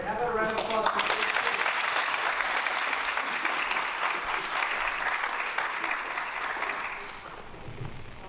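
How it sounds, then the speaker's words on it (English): A round of applause for a person being honored at a school board of education meeting, sustained clapping from the room that starts with a voice and fades near the end, with a brief voice returning. "how about a round of applause for Steve?"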